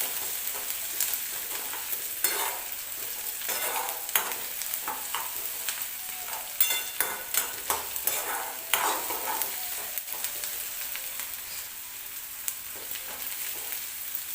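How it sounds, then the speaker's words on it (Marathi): Onion for chutney fries in a pan with a soft, steady sizzle, while a spatula scrapes and taps the pan in repeated stirring strokes. "एक दोन मिनटात कांदा आपला व्यवस्थित भाजून जाईल"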